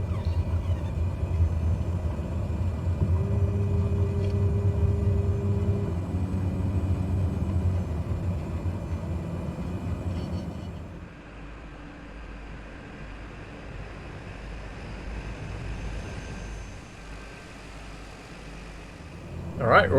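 Steady droning engine of a bush plane in Microsoft Flight Simulator, flying over Papua, Indonesia, a constant low rumble that drops to a softer hum partway through, with no talking over it.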